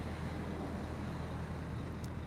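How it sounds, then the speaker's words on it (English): An empty livestock truck driving back out of a slaughterhouse, a low steady engine and road rumble, moderately distant and continuous with no talk. "The truck coming back out here."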